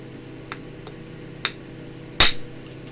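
An iron pipe strikes low and mid grade Texas chert to spall it, giving a few sharp, isolated clinks, the last one loudest, over a quiet hum.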